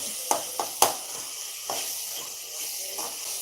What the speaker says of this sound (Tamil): இதில் வந்து வெங்காயம் தக்காளி கறி மசாலா பட்டை போட்டு வதக்கிட்டோம்